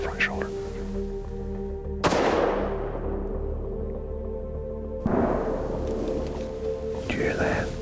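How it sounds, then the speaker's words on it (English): Two distant rifle shots during a deer hunt crack out about three seconds apart, each leaving a long rolling echo across the woods under quiet outdoor ambience. "That was definitely a gunshot."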